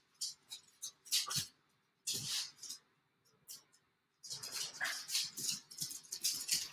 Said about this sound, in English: you can probably hear my dogs in the background again.